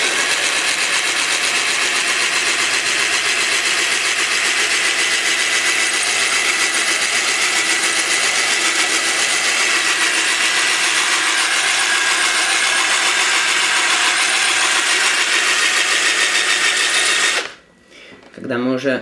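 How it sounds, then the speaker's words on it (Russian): A steady, high-pitched whine of an 8 mm drill bit boring through glass runs continuously without pause, then cuts off abruptly near the end. "И начинаем сверлить им."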